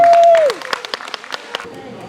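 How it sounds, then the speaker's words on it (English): A held vocal tone at the start, then scattered, sparse claps from a small crowd at a watch party for a local councilman, uneven and fairly close, fading out quickly. "Let's give him a round of applause."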